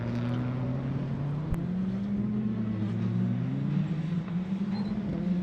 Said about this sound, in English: car coming from the tower before we see it